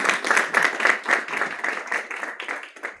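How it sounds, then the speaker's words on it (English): An audience at a Pakistani book talk claps for a team, a lively burst of many hands clapping in an uneven rhythm that tapers slightly toward the end. "Let's have a clap for the team of Black Hole."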